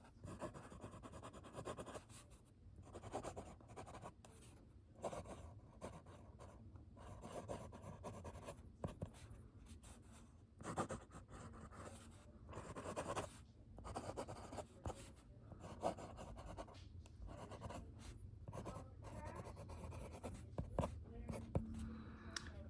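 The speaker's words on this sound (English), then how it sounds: "What I have is Maruman Japanese paper, grid, and I'm just going to write something here" A vintage Parker 21 fountain pen writes on Maruman Japanese grid paper, giving soft, steady nib scratches in short bursts with brief pauses between strokes, close and quiet, with no talking.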